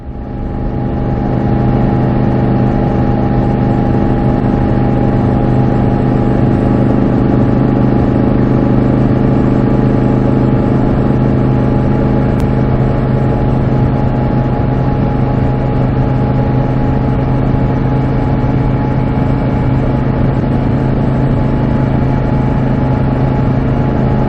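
A 1972 Moto Guzzi motorcycle riding along a road, its engine a loud, steady drone with constant wind rumble that holds unchanged throughout.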